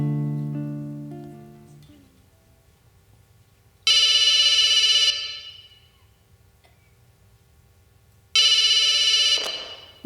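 A telephone rings in two loud bursts separated by a pause, each ring a bright, buzzing electronic trill that stops abruptly, with a quieter tone fading out just before the first ring and no talking.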